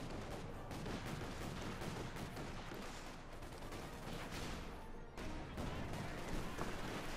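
Tank and infantry gunfire in the World War II strategy game Company of Heroes 2 forms a dense, continuous barrage of overlapping shots and blasts that runs loud and steady throughout, with only a brief dip near the end.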